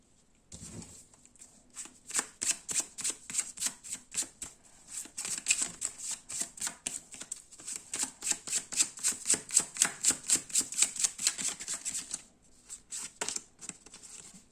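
A deck of tarot cards is shuffled up close in rapid, rhythmic riffles, a long run of crisp flutters that stops after about twelve seconds.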